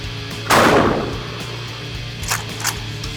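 A single loud shotgun blast fires outdoors, close by, its report decaying over about half a second, followed by a couple of faint clicks.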